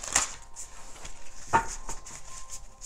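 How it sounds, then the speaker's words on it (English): Tarot cards being shuffled by hand give a few soft, quick papery riffles and taps, faint and close, scattered across a few seconds with no talk. "One more shuffle."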